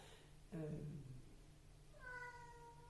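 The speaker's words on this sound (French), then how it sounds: "Excusez-moi pour Minou qui minatte" A cat meows nearby, one short low call followed about a second and a half later by a clearer, drawn-out meow, heard indoors against a faint steady hum.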